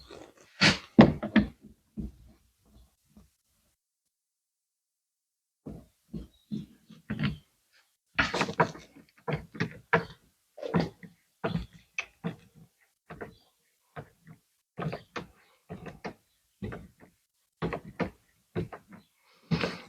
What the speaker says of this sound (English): What we're going to do is go around and take all the Torx screws out.